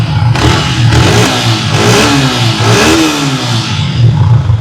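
A motorcycle engine revs up and down several times close by, its pitch rising and falling over a throbbing idle.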